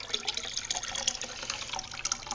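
Yeast is poured into maple syrup must, a soft, steady liquid trickle and splash that carries on throughout at low volume with no talking.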